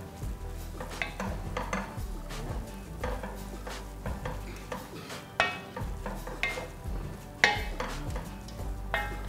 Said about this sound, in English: I'm just going to stir this whole thing in.